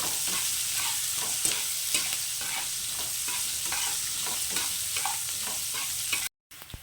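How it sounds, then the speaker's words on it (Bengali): Chopped onions fry in a pan for sambar pasta while being stirred, a steady close sizzle broken by repeated spoon-scraping strokes, cutting out briefly just before the end. "পেঁয়াজটা কিন্তু খুব বেশি ভাজবো না জাস্ট কালারটা চলে যাবে ততটা ভাজবো"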